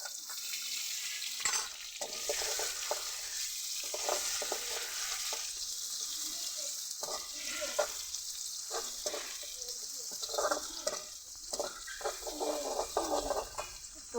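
Chopped onions frying in a pan for a green pigeon pea curry, a steady loud sizzle with occasional stirring scrapes, close and continuous, no talk.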